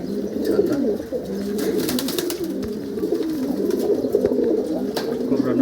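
Several breeding pigeons in a loft coo in overlapping, continuous rolling calls, with scattered clicks and rustles nearby and no voices.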